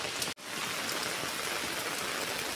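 Heavy monsoon rain pours over a flooded street in Sanpada with a steady, loud, even hiss. A momentary dropout interrupts it early, then it continues unbroken.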